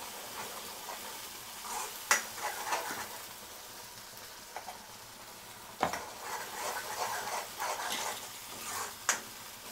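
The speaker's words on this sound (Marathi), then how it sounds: "चांगलं तेलात परतून घ्यायचं आपण ते." Ground Malvani prawn curry masala with turmeric and salt fried in oil, a soft steady sizzle broken by occasional clinks and scrapes of a spoon against the pot, with no talking.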